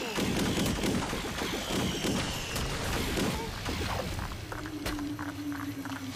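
Dense, busy bursts of video game weapon fire and thuds crackle through a noisy mix in Disney Infinity 3.0, with a brief tone sweeping in near the end.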